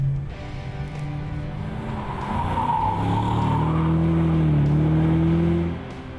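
A second-generation Vauxhall VXR8 muscle saloon driven hard on the Route Napoleon mountain road in southern France, its engine droning steadily louder and nearer while the tyres squeal in long wavering howls before cutting off.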